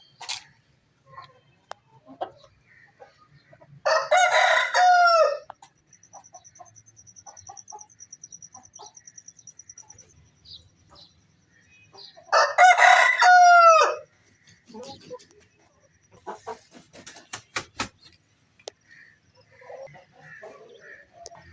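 Chickens in a cage crow twice, each loud call lasting over a second, with soft scattered clucks and scratching in between.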